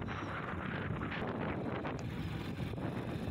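Strong wind gusts past the microphone on an open road near Vani Vilas dam at Hiriyur. It is a constant loud roar and buffeting that fills the whole stretch, with no talk.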